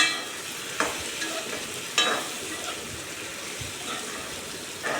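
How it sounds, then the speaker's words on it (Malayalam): Onions and slit green chilli sautéing in a pan for a pepper chicken curry, a continuous moderate sizzle with a few sharp spatula scrapes and knocks, no talking. "ഇത് നന്നായിട്ടൊന്ന് വഴറ്റിയെടുക്കണം."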